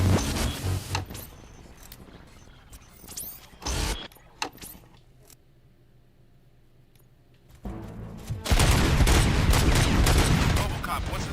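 Gunfire in the RoboCop: Rogue City video game rings out in loud bursts at the start and again near the end, with a quieter stretch between and a few sharp single shots.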